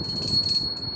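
A bell rings with a clear, sustained high tone and a bright upper shimmer, heard alone over a low background murmur.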